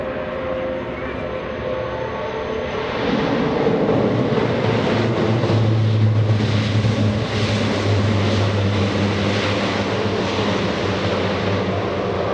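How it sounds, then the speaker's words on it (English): Lockheed C-130J military transport making a tactical assault landing at an air show, its turboprop roar rising from a distant hum into a loud, sustained drone with rushing noise as it comes in close. "Just demonstrated the tactical assault landing capability of the C-130J."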